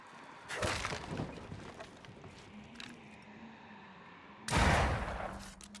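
Two loud gunshot blasts ring out in Banishers: Ghosts of New Eden, one early and a heavier one near the end, each a broadband burst trailing into a quieter ambient bed with a low steady hum.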